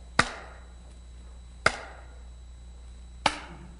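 A loudspeaker cabinet panel is struck three times at even intervals. Each sharp knock is followed by a short, fading resonant ring.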